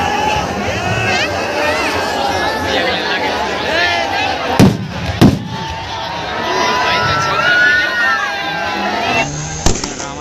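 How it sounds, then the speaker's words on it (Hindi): A dense crowd roars at a Ravan Dahan effigy burning during the 2021 Dharamjaygarh fair in Chhattisgarh, a steady wash of many voices broken by a few sharp firecracker bangs near the middle and the end. "वहाँ दूर दूर तक पूरा भीड़ है"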